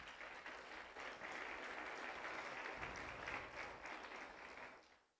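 Church congregation clapping during a Spanish-language service, a full sustained round of applause that holds steady before tapering off at the end, moderately distant.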